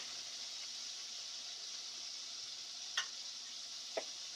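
Butter sizzles quietly in a pan for veal or chicken parmigiana, a soft steady crackle with two small clicks near the end.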